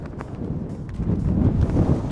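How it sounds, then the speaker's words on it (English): Wind blows across an outdoor golf course, making a low, steady rumble and buffeting that grows slightly stronger toward the end. No one speaks. "There's the wind."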